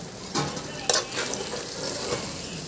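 Onions, curry leaves and two green chillies frying in a pan for a chicken fry, giving a soft steady sizzle with a few sharp spatula scrapes and clinks over it.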